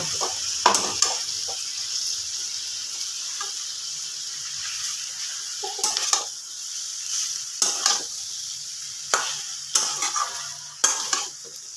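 Broken wheat daliya being stirred and fried with vegetables in a pan, a gentle hiss punctuated by repeated sharp spoon scrapes and clinks against the pot, close and clear.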